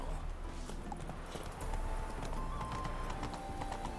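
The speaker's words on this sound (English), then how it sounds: "Did you just scare your horse, Ash?" Horse hooves clip-clopping steadily in The Witcher 3: Wild Hunt, a quick regular gait over ground with a faint whinny-like texture, moderately quiet and heard alone without talk.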